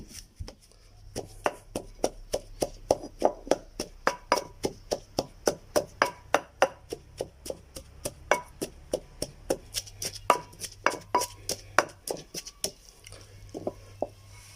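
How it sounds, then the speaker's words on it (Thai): Holy basil leaves are pounded in a mortar, producing a steady series of sharp, close knocks, roughly two or three per second, with a low hum underneath and short pauses near the end. "ผมก็จะโขกจะตำให้มันละเอียดนะครับ"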